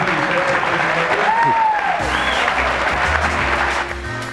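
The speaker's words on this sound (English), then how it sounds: "And if you want a nice round of applause" Audience applause fills a billiards tournament hall, steady broadband clapping from a crowd with an announcer's voice talking over it and tonal sweeps cutting through midway.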